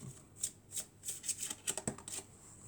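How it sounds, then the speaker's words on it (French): Tarot cards are shuffled and drawn by hand in a series of crisp, close riffling bursts and slaps, arriving in quick irregular clusters. "on va prendre encore une dernière carte"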